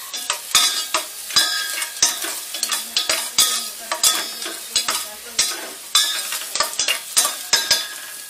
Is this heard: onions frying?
yes